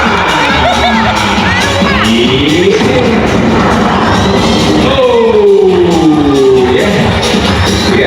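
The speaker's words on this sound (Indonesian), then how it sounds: "Adik-adik kasih tepuk tangan lagi dah" Children in the audience at a sea lion show at Seaworld Ancol shout and cheer loudly, with crowd noise, whoops and scattered claps filling the space alongside an amplified voice.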